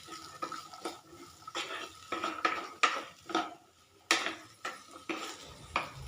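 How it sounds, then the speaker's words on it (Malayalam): A spoon stirs vegetable kurma with salt and green chillies in a pan, clinking and scraping against the metal in quick irregular strokes, close up, with a faint hiss beneath. "നല്ലതുപോലെ ഒന്ന് ഇളക്കി യോജിപ്പിക്കാം."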